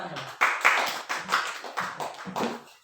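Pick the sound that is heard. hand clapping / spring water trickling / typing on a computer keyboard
hand clapping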